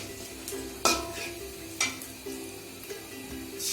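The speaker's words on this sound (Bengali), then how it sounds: "এই পর্যায়ে আমি পেঁয়াজ কুচিগুলো দিয়ে দিলাম এবং একসঙ্গে নাড়তে থাকবো" Chopped onions sizzle softly in a pan while a spatula stirs them, with a few sharp scrapes and clinks against the metal; quiet and close, no speech.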